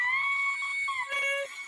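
Vocal pitched up very high and run through a weird glitchy effect, a thin, warbling, chipmunk-like tone that holds, bends and stutters for under two seconds, loud and dry.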